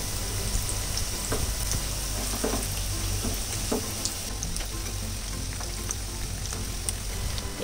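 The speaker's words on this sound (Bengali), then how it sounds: "চিড়াগুলো মাখানো হলে সাথে সাথে আমি তেলের মধ্যে একটা একটা এভাবে শেপ দিয়ে ছেড়ে দিব।" Chira (flattened rice) pakoras frying in hot oil, a loud, continuous crackling sizzle with scattered sharp pops, steady and close throughout.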